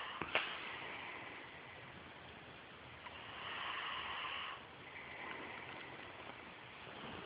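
A child snores in a faint, muffled way, with slow breathy swells of rasping noise rising and falling over quiet background hiss.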